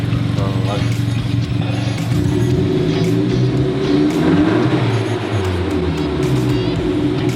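Car engine with a modified exhaust revving near the microphone, a deep rumbling drone that rises and falls, while people talk over it.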